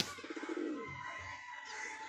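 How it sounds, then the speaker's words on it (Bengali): A white-faced male pigeon that has just landed gives a short run of nearby cooing calls, a low throaty coo alone against faint background noise. "ওই যে নর, মুখ সাদা নর, এ তো নেমেই ডাকে ডেকে ফাটিয়ে দিচ্ছে।"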